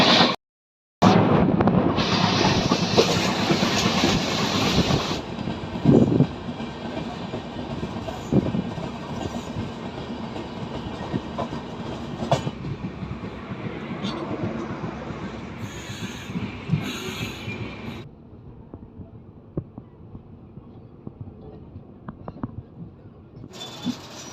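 A Shatabdi Express running on the rails between Bhopal and New Delhi: a steady rumbling roll with wheel clatter and occasional squeals and knocks, loud at first and then quieter and duller toward the end.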